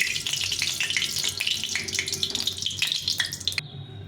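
Fish frying in hot oil in a kadai, a steady broadband sizzle with crackling bursts throughout, close and fairly loud, ending abruptly.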